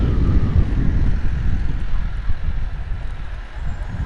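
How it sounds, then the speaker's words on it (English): Strong wind rushes and buffets against the microphone while riding along on a hot day, a loud, steady low roar that gusts throughout with no speech. "One of my favorite things about riding is the fact that you get a sort of breeze as you like ride along,"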